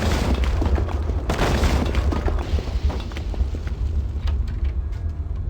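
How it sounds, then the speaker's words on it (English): Fire burning in a vampire survival game: a dense, roaring crackle with scattered pops and one heavier burst, loud and close throughout with no voices. "Oh no, fire!"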